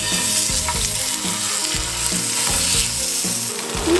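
Chicken thighs sear in about a tablespoon of olive oil in a pan over medium-high heat. A loud, steady sizzle fills the whole clip, broken by repeated low knocks and scrapes as the pieces are laid in and moved, and no one speaks.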